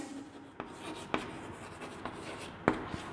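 Chalk or marker writing on a board during a Class XII physics lecture on electromagnetic induction, faint scratchy strokes with several sharp taps as letters are finished, quiet and close.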